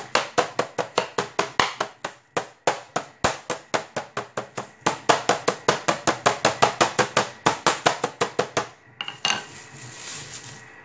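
Meat being pounded thin with a heavy tool, a quick series of loud, sharp, evenly spaced thuds with a short pause partway through, followed by a brief scraping shuffle.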